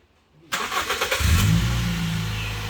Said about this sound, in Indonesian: Ini mesin sudah dinyalakan, suaranya halus teman-teman.